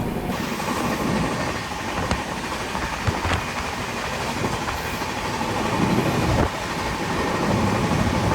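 The Visakhapatnam–Mumbai Superfast Express rolls along the tracks, heard from on board as a steady loud rumble with rhythmic clicks and clacks of the wheels over rail joints.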